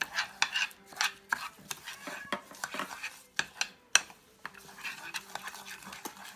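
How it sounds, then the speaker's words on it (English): A spoon stirring an egg into almond flour cookie dough in a bowl, with irregular scraping clinks and soft knocks against the bowl, close and moderately loud. "Stir in that 1 egg first."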